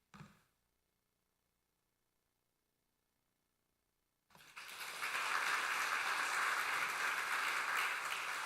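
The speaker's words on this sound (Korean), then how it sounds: "우리 전달할 때 큰 박수로 축하하도록 하겠습니다" Applause from a church congregation at a Thanksgiving Sunday service rises after a brief thump and long silence, swelling into sustained, dense clapping from many hands that fills the room.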